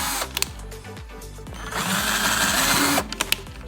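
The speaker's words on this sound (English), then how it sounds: "Just a couple drill holes, not many, just enough." A power drill bores a few holes for a DIY carbon monoxide setup, running in short bursts with revving pulses, then a longer steady whine before stopping and restarting briefly, close and loud.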